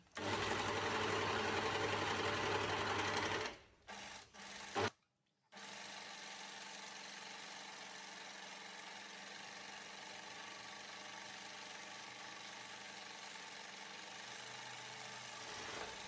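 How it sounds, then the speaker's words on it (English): An overlocker runs a 2-thread overlock seam, giving a loud steady mechanical hum for a few seconds, a brief stop and restart, then a quieter continuous whir. "I'm actually only doing 2 thread overlock on this at the moment."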